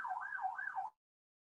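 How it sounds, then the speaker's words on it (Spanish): An ambulance siren passes outside, its wailing, rising and falling tone sounding faint and distant for under a second before cutting off abruptly into silence. "desactivé el audio porque estaba pasando la ambulancia"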